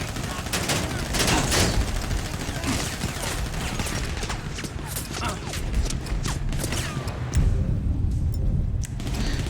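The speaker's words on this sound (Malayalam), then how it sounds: "അവിടെ വീടിൻ്റെ ടെറസിൽ നിന്നൊരുത്തൻ വെടിവെച്ച് കളിക്കുന്നുണ്ട്" Rapid gunfire bursts in GTA 5, with the character Trevor firing at a gunman on a house terrace, dense crackling shots repeating throughout, loud and close against a busy game soundscape with some talk.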